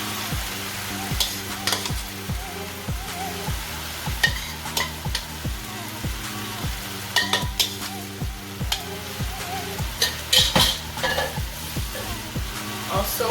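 Ground beef frying in a pan, with a constant close sizzle and repeated rhythmic scraping as the meat is stirred and broken up.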